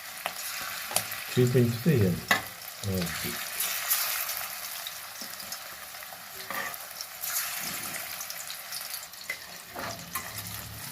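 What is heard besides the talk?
prawns frying in oil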